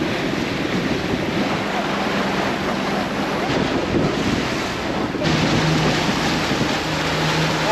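A motorboat ride across the sea to Ross Island in the Andamans, with steady wind buffeting the microphone, rushing water and waves against the hull, and a low engine drone, loud and continuous throughout.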